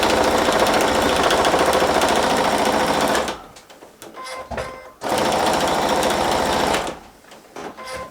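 A sewing machine stitching fabric on a quarter-inch seam, two loud steady whirring bursts of rapid needle chatter, each about three seconds long, separated by brief quiet pauses with light handling clicks.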